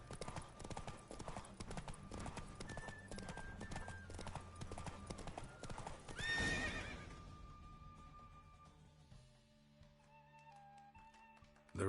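Roach, the horse from The Witcher 3, gallops in a race with fast, loud hoofbeats that fade after a whinny midway. Game music plays over the hooves, and a voice speaks briefly.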